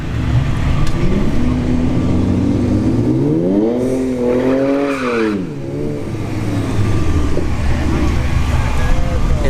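A gutted turbocharged Ford F-150 drag racing truck, stripped of front bumper, grille, fenders and bed, revs loudly at a dragstrip test-and-tune with rising and falling engine pitch, under steady crowd and track noise.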